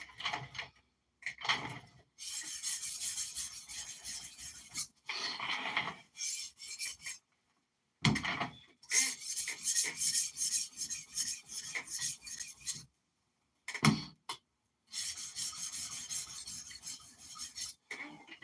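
A high carbon 125CR1 steel knife being sharpened, with steady raspy strokes on a stone that come in bursts separated by short silences, close and fairly quiet with no talk.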